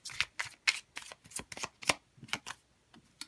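Tarot cards shuffled for a reading, a run of crisp riffling bursts and soft card slaps in an uneven rhythm, close and fairly quiet with no talking.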